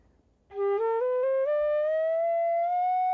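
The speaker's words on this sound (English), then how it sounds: "the Chinese flute" A Chinese bamboo flute holds one loud, clear sustained note that bends and slides gradually upward in small steps, heard alone with no talking.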